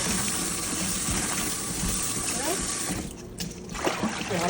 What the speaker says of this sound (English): So we're just gonna give it a little wash out